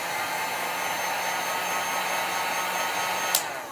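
A heat tool dries chalk paste on a Valentine-themed craft piece, giving a steady close whirring blow that holds evenly for a few seconds, then a brief click near the end as it shuts off.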